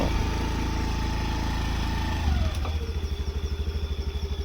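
A Honda Activa scooter engine runs close by, a steady droning hum that shifts after a couple of seconds into a rhythmic, pulsing putter as the scooter rides around.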